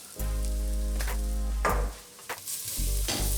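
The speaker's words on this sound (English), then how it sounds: "stir that around a little just to sort of get the raw taste of spice out of it" Spices for a red lentil dhal are stirred and fried in a pan. A close sizzle is broken by a few scraping stirs, over a constant low hum.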